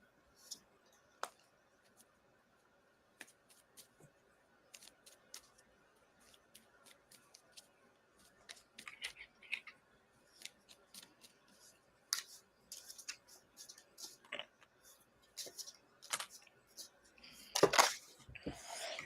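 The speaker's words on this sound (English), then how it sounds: "as I was shuffling, I had two escapees." Tarot cards being shuffled by hand, with scattered soft card slaps and riffles that grow busier and louder toward the end, close and quiet with little else around them.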